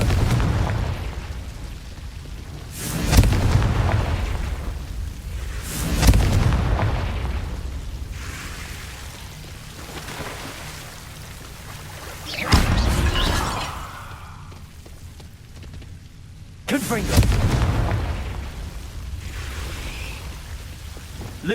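Confringo blasting spells going off in Hogwarts Legacy, four loud booming explosions spaced a few seconds apart, each ending in a rumbling, crackling tail, with no talk.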